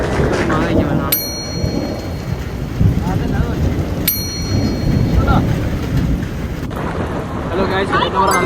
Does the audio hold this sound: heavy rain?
yes